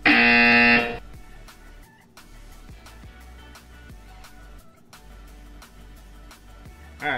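A loud, steady electronic buzzer sounds for about a second at the start, then fades into a quieter room with scattered clicks and faint background noise.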